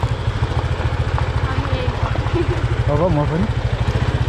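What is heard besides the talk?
motorcycle being ridden across a suspension bridge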